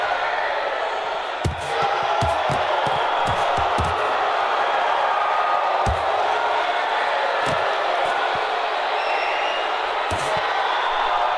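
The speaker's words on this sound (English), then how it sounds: "You just hear the crowd's response every time Bas's glove touches Ferg anywhere." A virtual arena crowd in the VR boxing game Thrill of the Fight 2 roars in a steady, dense wash, swelling with each landed punch, while someone talks over it.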